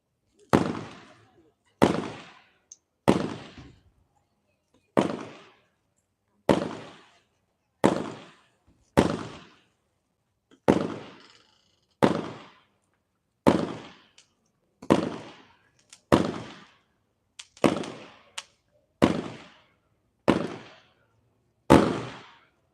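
Great Grizzly Island Time 10-shot firework cake fired at a demo night in Indiana, a steady series of sharp booming reports, each fading quickly, spaced about one to one and a half seconds apart with outdoor echo.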